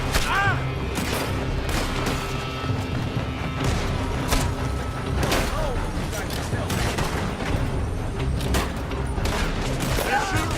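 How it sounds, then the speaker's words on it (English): Rapid gunfire crackles through a Red Dead Redemption 2 firefight, with sharp overlapping shots and booms in a steady barrage while voices shout over it. "They're shooting from that building."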